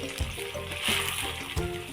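Finely chopped onions frying in oil in a pan, a soft continuous sizzle with occasional stirring scrapes, quiet and close with no talking.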